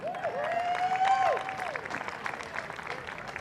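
A crowd at a live music show at a depot stage applauds a band in soft, fairly distant clapping, while a sustained sliding tone sounds over it at first and then fades.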